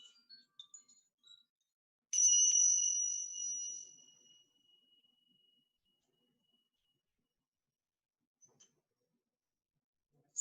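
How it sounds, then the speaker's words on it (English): A koshi chime rings out in a single soft, high, shimmering strike that lingers and fades slowly, alone in an otherwise quiet space with a few faint taps around it. "We're going to close this out with some soothing koshi chimes."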